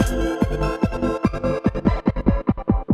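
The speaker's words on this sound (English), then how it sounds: "What I have here is actually the gating part of the drums." Choppy gated drums with hits abruptly cut off, creating a stuttering rhythm over a synth bed that thins and fades toward the end.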